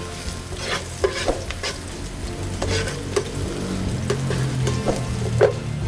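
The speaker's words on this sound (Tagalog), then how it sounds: "Magigisa na po tayo ngayon. Unahan ko na naman ang bawang." Garlic sautéing in a pan, done the old-fashioned way: a constant close sizzle overlaid with brisk, regular stirring strokes and spatula scrapes, moderately loud and free of speech.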